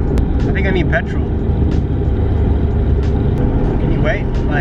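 Old car driving with loud, dense low engine and road rumble throughout, steady and close, with a few brief higher rattles and squeaks over it and people talking inside the car.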